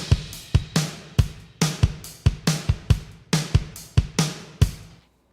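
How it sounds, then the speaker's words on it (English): A solo drum kit plays unprocessed before mixing, with kick and snare hits and cymbal wash in a steady groove of about a dozen strikes, close and clean, then it stops. "So the drum sounds like this as it is."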